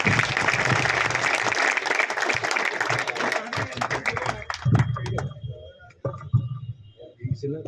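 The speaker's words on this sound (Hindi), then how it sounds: "एक बार जोरदार तालियों से स्वागत" Loud audience applause and cheering at a Delhi electricity board National Safety Week event for linemen, a dense burst that gradually thins into scattered claps with voices talking over it.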